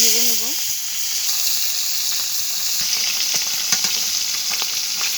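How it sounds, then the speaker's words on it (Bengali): Small fish frying in hot oil in a pan, a continuous bright hissing sizzle, close and fairly loud, with a short tonal squeak at the start and faint scraping stirs. "এবার আস্তে আস্তে মাছগুলোকে আমি ভেজে নেব।"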